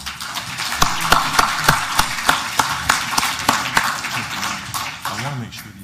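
Audience applause breaks out as speakers Darryl Lacounte and Johnna Blackhair arrive on stage at a Tribal Energy Summit plenary, a dense run of claps with a few sharp, louder hand strikes standing out through the wash.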